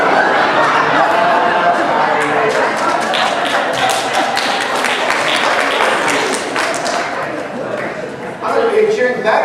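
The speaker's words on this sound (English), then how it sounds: "Are you cheering for that, or are you cheering for George Bush?" An audience at a talk cheering and applauding, with dense clapping, loud and close at first, then fading as people chatter and a voice speaks over the crowd.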